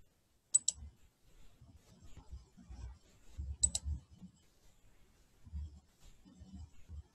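Two sharp computer mouse clicks on a hyperlink, about three seconds apart, stand out over a faint, low background murmur.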